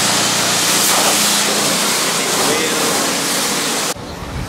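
Strong water spray from a hose rinsing soap off a car, a loud continuous hiss and splash held steady for about four seconds before cutting off abruptly near the end.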